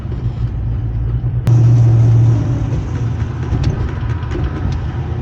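A Ford Mustang Fox Body engine running on bad fuel, a steady low rumble with a sharp click and a brief louder surge early on, then an uneven idle with faint irregular roughness; no voices.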